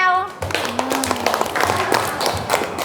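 Classroom applause for a student's group presentation, a dense patter of many hands clapping through the whole stretch, with a voice heard briefly at the start.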